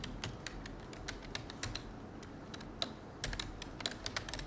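Code being typed on a computer keyboard, a steady run of quick, close key clicks with brief pauses and a few heavier strokes, over a faint background hum.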